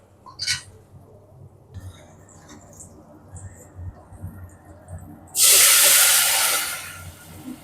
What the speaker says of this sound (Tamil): இப்போ நம்ம குழம்பு எடுத்து அதில் ஊற்றிடலாம்